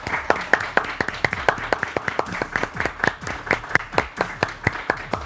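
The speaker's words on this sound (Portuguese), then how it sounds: "uma salva de palmas." Steady rhythmic clapping fills a television studio during a tribute to a motor racing commentator, sharp evenly spaced claps from a small group, close and clear with no talking.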